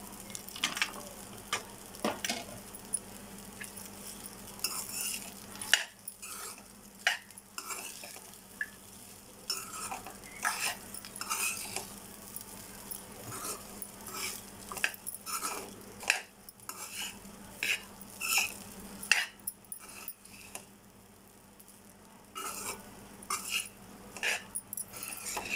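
A spatula scraping and stirring chicken fried rice in a pan, rapid repeated clinks and scrapes over a soft sizzle, close and fairly loud.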